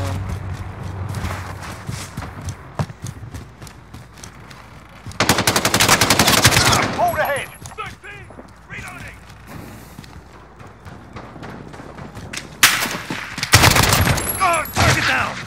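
Gunfire in Modern Warfare: sustained bursts of rapid automatic fire, loud and close, alternating with quieter stretches, scattered single shots and footsteps, plus a final heavy burst.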